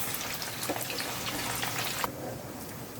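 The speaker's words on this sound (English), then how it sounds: "So just keep on twisting the paneer cubes so that it gets crispy and golden brown from all sides." Paneer cubes fry in oil in a pan with a dense, steady sizzle and a crackle that fills the whole stretch, plus occasional small pops and spatters close by.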